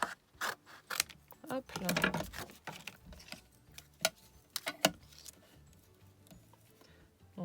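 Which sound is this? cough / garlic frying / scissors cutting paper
scissors cutting paper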